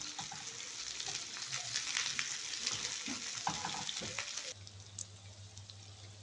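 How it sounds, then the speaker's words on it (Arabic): Onions sauté in ghee with a steady, dense sizzle for about four and a half seconds before the frying quiets to a low hum, all close to the pan, with no talking. "يا دوبك اشوحه شويه بس في السمنه وبعد كده اطلعه"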